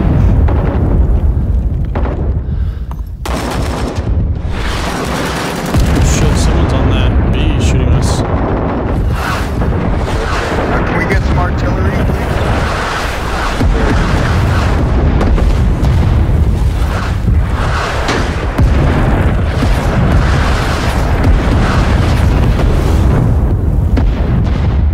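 Heavy booming bomb explosions and battlefield blasts in the Vietnam shooter Rising Storm 2 at Hue City, loud and continuous with repeated deep bursts over dense combat noise and occasional talk.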